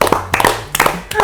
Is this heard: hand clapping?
yes